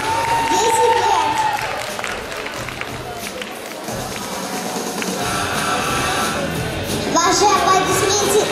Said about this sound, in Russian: Ваши аплодисменты для яркой участницы под номером 8!